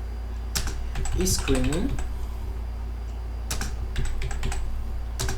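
Typing on a computer keyboard while writing web code, bursts of quick close key clicks separated by pauses, with a person speaking over parts of it.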